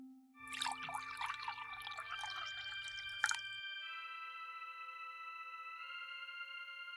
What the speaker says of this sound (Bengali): এবার আমি এই পড়া জল কুয়োর ভিতরে ঢেলে দিচ্ছি